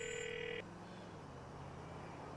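A telephone rings in the video game GTA 4, a short electronic ring of about half a second that cuts off and leaves quiet in-game background ambience.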